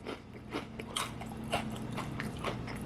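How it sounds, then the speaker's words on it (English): Close crunching of avocado oil kettle-cooked potato chips being chewed, a series of sharp irregular crisp bites and cracks over a few seconds, quiet and without talk. "this tastes like a very standard kettle chip. I like the crunch."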